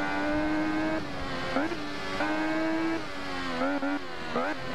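Motorcycle engine in the racing game Ride 1, a supersport bike screaming at high revs, pitch climbing through gears with sharp dips at each upshift and downshift, loud and continuous.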